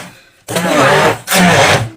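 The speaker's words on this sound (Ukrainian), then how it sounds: "До однієї додаю один банан і перебиваю." A blender blending banana whirs in two loud bursts with a short pause between, a dense grinding roar close by.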